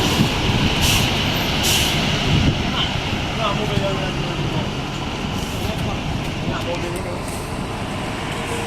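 An NPM intercity bus rolls along an Indonesian road with a loud, steady engine roar and traffic rumble, a brief hiss like an air brake near the start, and a voice talking over the noise.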